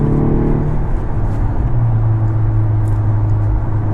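Volkswagen Golf 6 R in sport mode, engine droning with throttle blips on gear shifts; a steady, close exhaust hum rises to a higher pitch partway through, heard alone without talk.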